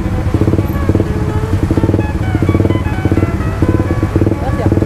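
A Suzuki GSX-R 150 motorcycle engine revs hard at high speed on a public road, a loud, buzzing, pulsing drone heard up close and continuing without a break, with voices mixed in.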